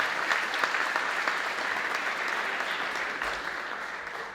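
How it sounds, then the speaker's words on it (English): Audience applause at a county council awards ceremony in Westmeath, a steady dense clapping from a crowd sustained for about four seconds, fairly even in level and fading slightly at the end, with no voice over it. "Give him a round of applause"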